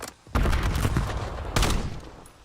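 Video game gunfire comes in two loud close bursts of rapid automatic shots with a short pause between, with no voices.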